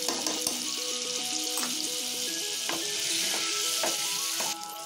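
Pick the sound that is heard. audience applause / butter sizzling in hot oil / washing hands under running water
butter sizzling in hot oil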